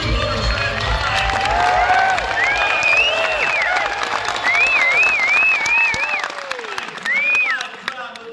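A live crowd at the SEMA show applauds and cheers, with steady clapping, whistles and shouts and a host's voice speaking over it.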